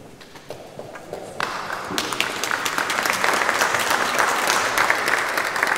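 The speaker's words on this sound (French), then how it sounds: "C'est bien évidemment Jésus qu'on applaudit." Applause at a healing prayer conference starts with a few scattered claps, then swells quickly into full, close crowd clapping that continues to the end.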